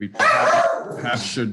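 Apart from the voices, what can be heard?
dog barking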